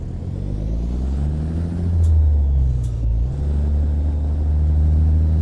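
A deep, steady Freightliner Cascadia 2018 truck engine drone in American Truck Simulator, with low harmonic hum, rising slightly in pitch midway, then settling, heard loud and close without any talking.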